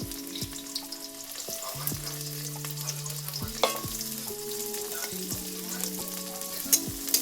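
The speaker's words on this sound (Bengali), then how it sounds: "এবার তেল দিচ্ছি, সরষের তেল। এবার পেঁয়াজ কুচি দিয়ে দিচ্ছি" Chopped onion fries in mustard oil in a pan, a steady close sizzle with occasional stirring scrapes, playing beneath continuous background music.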